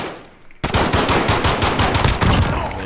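Rapid pistol fire in the video game Call of Duty: Modern Warfare, a loud, dense burst of quick shots that starts abruptly and rattles on steadily for a couple of seconds.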